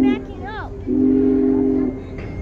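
Union Pacific 4014 Big Boy steam locomotive backing up at Limon, Colorado, giving a loud, sustained whistle blast of about a second after a brief opening toot, with rumbling rail noise underneath and brief voices nearby.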